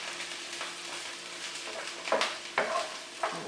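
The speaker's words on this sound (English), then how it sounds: "I will saute those until the onion is translucent" Onion sautéing in a pan for a turkey and quinoa dressing gives a steady soft sizzle, broken by a few sharp scraping stirs near the end; no one speaks.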